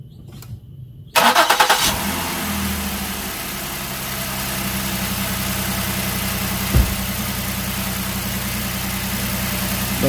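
A car engine cranks and catches after a quiet moment, then settles into a steady idle, with one brief louder knock partway through; this is a normally running car under fuel pressure testing.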